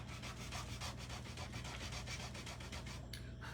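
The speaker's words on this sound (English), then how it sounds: "I'm going to kind of sand a little bit of this off" A wooden cutout Christmas tree is hand sanded with rapid, rhythmic back-and-forth rasping strokes, close and steady throughout with no pauses.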